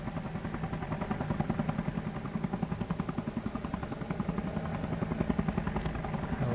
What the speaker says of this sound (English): Helicopter is dancing around.